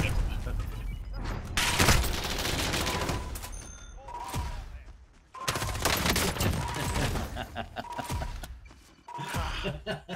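Rapid bursts of gunfire from the Call of Duty Modern Warfare video game, loud and sustained with brief gaps, heavy booming impacts layered with rattling automatic fire across the whole stretch.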